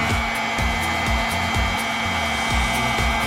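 A heat gun blows hot air onto the adhesive under a damaged Allure Traffic Master vinyl plank, giving a constant loud whirring hiss with soft repeated thumps underneath.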